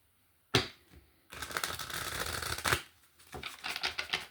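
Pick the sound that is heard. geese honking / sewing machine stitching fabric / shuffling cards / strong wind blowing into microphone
shuffling cards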